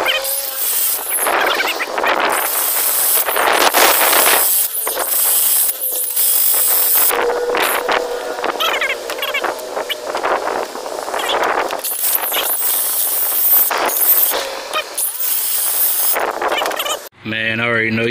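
Harsh, loud grinding screech of a cutoff wheel biting into metal on a Chevy Silverado valve cover area, continuous with brief dips and surges as the cut progresses.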